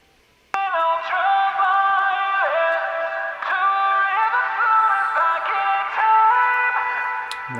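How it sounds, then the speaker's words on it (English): Sung vocals with a telephone effect sound thin, narrow and boxy as a single voice holds sustained, sliding notes over several phrases, close and steady, from a vocal cover of a song. "we have like a telephone effect."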